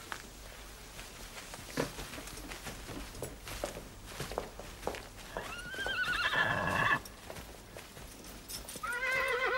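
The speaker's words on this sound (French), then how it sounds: "Pierre, étrille le cheval de Monsieur Baglioni." A horse's hooves clip-clop in a steady walking rhythm, followed by a loud whinny and another shorter neigh, close by.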